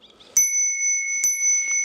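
Two crisp rings come from a classic retro bicycle bell on an ENGWE E26 e-bike, each a bright metallic ding that lingers and rings on, close and clear with no talking.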